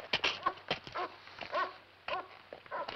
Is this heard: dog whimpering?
yes